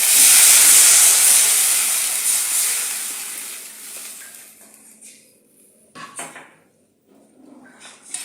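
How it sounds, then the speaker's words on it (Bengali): Water poured into a hot pan after frying shing fish sets off a loud hiss of steam and sizzling that fades over several seconds, with a few faint clinks of cookware near the end. "তো আমার ভাজা হয়ে গেছে, এখন জল ঢেলে দেব।"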